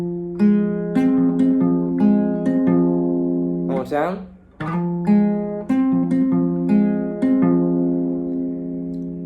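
Fingerpicked acoustic guitar plays the closing bar of a song, clear sustained plucked notes in a steady pattern, with a brief slide or pitch bend in the middle and a short spoken phrase near the start.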